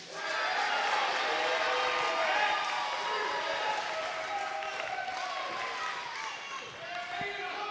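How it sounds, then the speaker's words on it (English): A wrestling show crowd fills the arena with clapping, cheering and chanting voices, a continuous roar that holds steady for several seconds and fades slightly toward the end. "Don't clap because I'm leaving."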